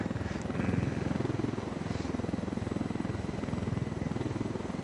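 A helicopter in the video game Ghost Recon Wildlands gives a steady, fairly loud rotor thump and engine drone throughout, with faint talk occasionally in the background.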